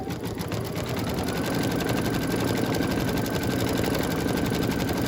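A home embroidery machine stitches the bottom part of a purse design for a dress boutique scene hanger, a steady, fast, close mechanical whirring and needle clatter that runs on continuously.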